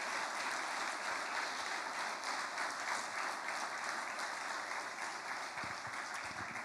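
Soft applause from a church congregation during a sermon on prosperity, a faint, even field of clapping heard from a distance, with steady texture throughout and a few low thumps near the end.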